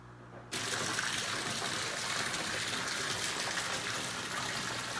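Water pours into an indoor koi pond. After a brief quiet moment, a loud, steady gushing rush starts abruptly and continues evenly, with no talking.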